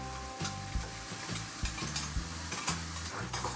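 A spoon stirs ridge gourd kootu with moong dal and grated coconut in a pot, giving repeated close scrapes and knocks over a soft simmering sizzle, with no voices.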